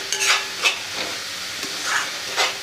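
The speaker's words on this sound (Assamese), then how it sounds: "ভালদৰে এইখিনি ভাজিব লাগিব যেতিয়ালৈকে নাৰিকলৰ গাখীৰখিনি থাকে" Grated coconut and sugar frying in a pan for bhapa pitha, with a soft continuous sizzle and several distinct scraping stirs of a spatula, close up and without speech.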